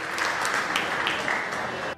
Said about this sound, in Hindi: जरा जोरदार तालियां होनी चाहिए इनके स्वागत के